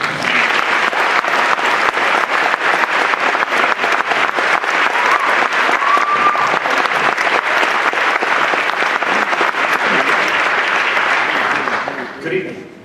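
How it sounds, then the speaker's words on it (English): Loud, sustained applause from a large audience at a student peace prize award ceremony, steady clapping for about twelve seconds before it fades out at the end. "please give him a welcome applause"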